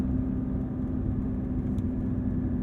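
A 2022 Porsche 911 GT3 flat-six engine drones loudly and steadily from inside the cabin under hard acceleration, a constant deep rumble with a strong tonal whine.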